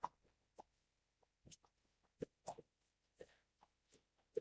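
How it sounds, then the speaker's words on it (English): Grits splattering as they cook in a pot during a Southern breakfast, giving a sparse, irregular series of soft wet plops and pops, fairly quiet and close, with no talking. "grits are splattering"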